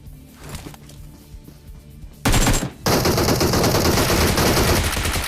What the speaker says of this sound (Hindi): वो मैंने 3 की 3 गोली मार दी